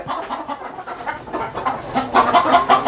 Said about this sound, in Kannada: ಈಗ ಕೋಳಿ ಹಿಡಿಬೇಕಾದ್ರೆ ಕಿರ್ಚಾಟ ಕೂಗಾಟ ರಿಯಲ್ ನಾಟಿ ಕೋಳಿ ಸಹಜ ಅದು